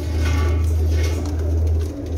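Sialkoti breed pigeons coo softly and continuously in a low, rolling murmur, close by against a steady background hum, with no talking.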